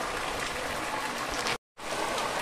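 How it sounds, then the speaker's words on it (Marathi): Steady rain or drizzle falls outdoors as an even, close hiss of drops, broken by one brief silent gap, with no voices. "पाऊस चालू झाला, झिमझिम चालू झाला"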